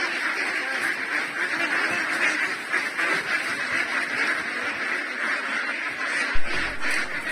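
Ducks, a flock of domestic itik at feeding time, quacking steadily in a dense, continuous chorus up close, with one louder burst near the end and no voices.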